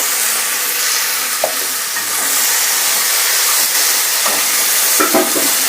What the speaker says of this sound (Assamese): এইখিনি আকৌ ভাজিম পিঁয়াজৰ লগত, যাতে বিলাহীখিনি কোমলি গৈ পিনে তেল বিৰিঙি উঠে